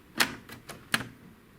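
The paper feed tray of an HP 7520 inkjet printer snaps shut in a few quick plastic clicks and knocks, two sharper hits framing softer taps, close and fairly quiet with no talk over them.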